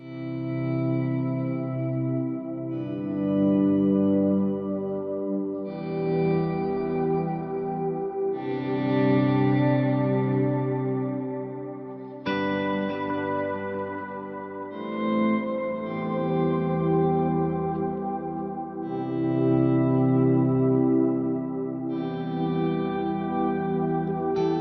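Electric guitar played through a POG octave pedal with heavy reverb, long decay and a high mix, producing sustained layered chords with shimmering octave doubling that swell and change every few seconds, loud and alone with no talking.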